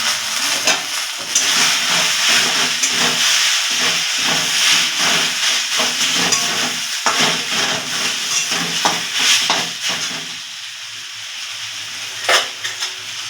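Chopped tomato being stir-fried in a pan for veg puri filling: a loud, steady steaming hiss and sizzle broken by frequent scraping stir strokes, easing a little toward the end.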